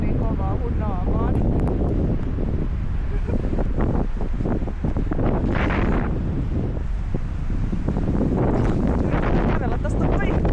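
Strong wind in a snowstorm on the Finnish coast roars and buffets the microphone continuously while a person talks close by.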